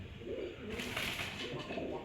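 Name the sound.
pigeons cooing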